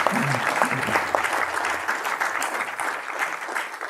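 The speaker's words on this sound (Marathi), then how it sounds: "पहिल्यांदा आपण जोरदार टाळ्या वाजूया आणि शुभदाजींचं अभिनंदन करूया" Audience applause at a book launch event fills the room, a steady, dense burst of many hands clapping that holds strong for about four seconds without letting up.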